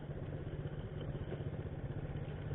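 A Kadiri Chunlan 125 motorcycle engine idles after a cold start in a garage, following two years of sitting, with a steady low, rhythmic putter and light mechanical clatter throughout, with no talking.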